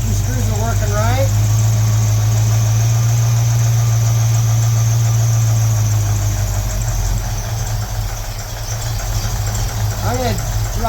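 A car engine idles steadily and loudly while the idle mixture screws on an Edelbrock carburetor are turned and the idle stumbles, with someone talking over the constant rumble.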